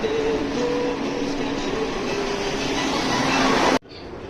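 Steady rumbling rail noise of a moving Tehran–Shiraz sleeper train in Iran fills the space, broad and continuous, with a faint tonal hum, cutting off abruptly near the end.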